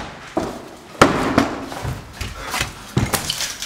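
An explosive detonation goes off as a string of sharp, loud bangs and heavy thuds, with a few separate bursts spread across a few seconds over a rumbling background.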